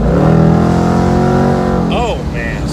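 A 2019 Ford Mustang GT Premium convertible engine revs loudly and steadily with rising tones, then eases off as a brief higher sound enters near the end.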